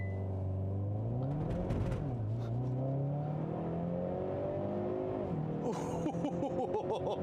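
A 2021 Hyundai Veloster N with DCT gearbox sits on launch control in snow, its engine revving up and holding high, with rising and falling rpm sweeps and a sharp crackle near the end.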